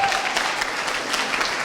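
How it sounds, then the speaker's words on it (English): A short burst of steady applause from an audience welcoming a sales speaker, moderately loud and continuous across the brief moment. "Congratulations. Round of applause,"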